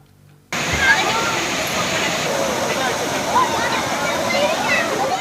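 Waterfall and forest-edge stream at Mallankuzhi, Kadangode, a monsoon-season rural tourism spot: a loud, continuous rushing roar of falling water that cuts in abruptly after a brief quiet start and stays steady, with faint talk in the background.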